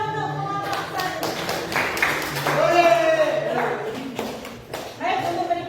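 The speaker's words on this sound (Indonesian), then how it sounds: "Tepuk tangan dulu untuk kelompok 1" Classroom applause for a student group, a short burst of claps from a small group of pupils mixed with voices talking.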